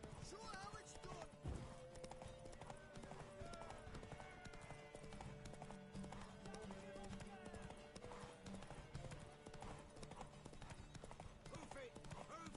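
Horse hooves galloping in the video game Witcher 3 form a steady, rapid clip-clop under layered crowd noise and game sounds, with people shouting throughout.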